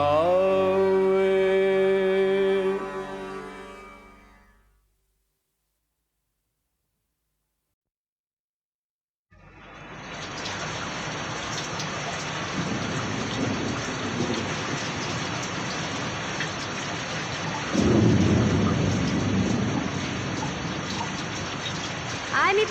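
Heavy rain pours in a steady broadband hiss with deep thunder rumbling and swelling midway. It follows a sung melody that fades into several seconds of silence.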